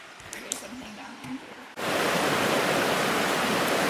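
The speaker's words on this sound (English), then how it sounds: "stopped to take lunch, and we're by the Little Carp River" The Little Carp River in Michigan's Porcupine Mountains rushes loudly and steadily close by, a dense broadband roar that cuts in abruptly after a quieter opening moment.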